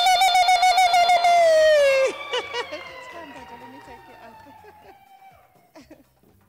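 An audience ululates to welcome a Nigerian professor at the Thabo Mbeki Africa Day Lecture, a shrill, warbling high-pitched vocal cry held for about two seconds, then fading into softer trailing tones.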